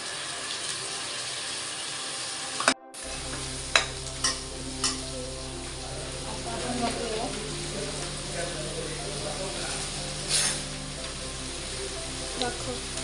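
Finely chopped tomato drops onto sautéed onion in a frying pan, a steady sizzle after a brief pause, punctuated by several clinks and scrapes of stirring, with a voice talking over it.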